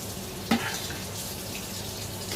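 Water runs steadily from a tap while cooking ingredients for a stew are washed, a soft continuous hiss with one brief clunk near the start.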